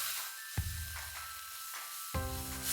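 A hara bhara kebab mixture of greens, mint and coriander sautéing in a pan, with a steady close sizzle and two soft stirring bumps against the pan, no voices.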